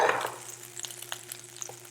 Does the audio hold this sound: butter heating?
yes